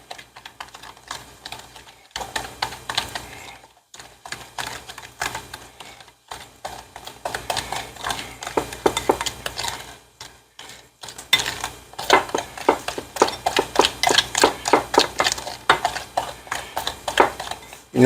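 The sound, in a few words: mixing ingredients for Peking duck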